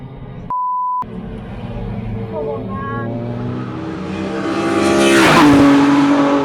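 A race car that spun and stalled on track is restarted: a short electronic beep, then the starter cranking and the engine catching and revving up loudly, close by.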